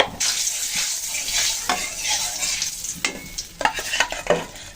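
A pinch of turmeric sizzles in hot oil, readying the pan for frying rohu fish; a loud close hiss fills the pan, broken by brisk spatula scrapes and clatter that grow busier toward the end.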